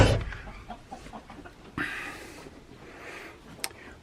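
A setting hen in a chicken coop gives soft, scattered clucks at close range, along with rustling and a couple of sharper bumps.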